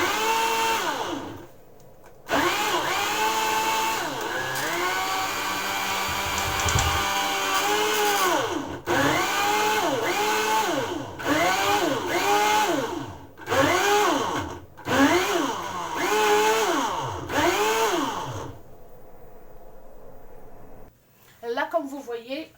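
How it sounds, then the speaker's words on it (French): A home blender strains to crush cassava, its motor whining in repeated surges whose pitch sags and climbs as the blades bog down. It runs loud and close for most of the stretch, then stops briefly before a short final burst. "Là, comme vous voyez, mon blender a du mal à le mixer."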